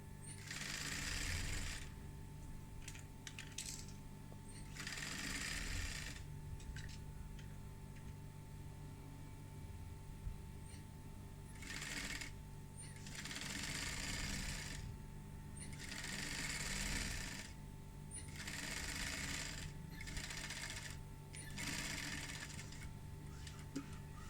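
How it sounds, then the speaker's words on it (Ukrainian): A sewing machine stitches a decorative pillowcase with a floral appliqué. Its whirring comes close and steady in several long bursts, broken by short pauses, with no talk over it. "Ось пошила з однієї сторони і зразу шию поряд з іншої."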